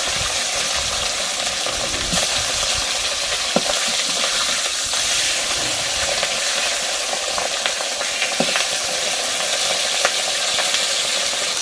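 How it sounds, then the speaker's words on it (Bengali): Bata fish fry in oil in a wok, a loud continuous sizzle and spatter with occasional clinks of stirring, steady throughout with no voices. "মাছ ভাজা হয়ে গিয়েছে, এবার তুলে নিচ্ছি।"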